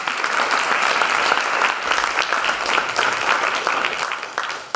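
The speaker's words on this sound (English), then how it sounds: "So a round of applause for them, please." Theater audience at a community story night claps in a sustained, dense round of applause, loud and even throughout before tapering slightly at the close.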